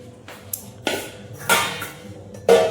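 A lid set onto a cooking pot in a home kitchen, a few separate metallic clanks and knocks, the last one the loudest and ringing briefly.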